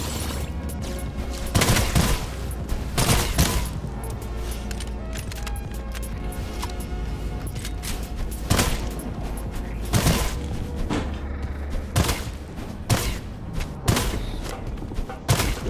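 Rapid bursts of gunfire in the PC extraction shooter Sulfur, loud sharp shots firing in irregular clusters with booming impacts over a constant game background.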